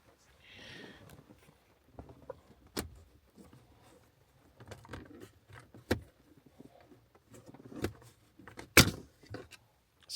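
A plastic pry tool works loose the center console side trim of a Lexus IS250/IS350, giving a few sharp, isolated snaps and clicks among quieter scraping and fumbling close by.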